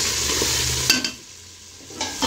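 Meat and potatoes for aloo gosht salan stirred in a pot, a near scraping, sizzling frying sound that pauses briefly midway and picks up again toward the end.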